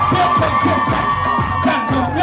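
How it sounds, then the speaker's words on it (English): A crowd cheers and whoops in a short, loud burst of excited shouting, with a steady tonal hum running underneath. "And the crowd goes wild while we all go insane."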